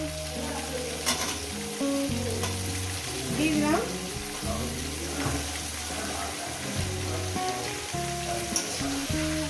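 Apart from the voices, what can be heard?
vegetables with cauliflower frying in a kadai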